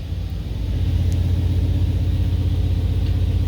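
The engine of a turbocharged Cadillac Escalade runs steadily, a loud, close, low rumbling idle with an even throb throughout.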